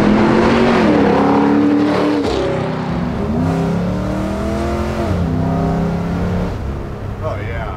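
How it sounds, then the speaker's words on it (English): A 1964 GMC C10 step-side pickup with an LS engine, restomod on air suspension, revs hard during a burnout, its engine note rising and falling repeatedly close by, with voices talking over it. "But I want you to do the burnout."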